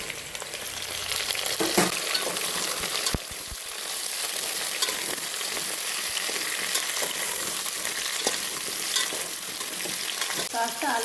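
Mixed vegetables fry in a pan while being stirred for a quick sambar, a loud, continuous sizzle broken by repeated scraping clicks of the spoon against the pan.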